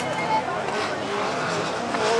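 Race car in a French championship race (C2T3F class) passing the microphone, a steady broadband engine roar sustained throughout with faint tire noise, loud and close.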